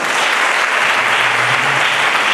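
A gala audience at a school's twentieth-anniversary celebration breaks into loud, dense applause, a steady wash of many hands clapping with no pause.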